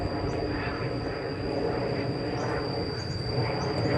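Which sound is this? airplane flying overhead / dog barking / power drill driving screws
airplane flying overhead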